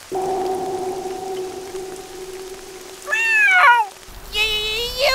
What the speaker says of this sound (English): Guard Cat is helping with the shopping cause he's so cool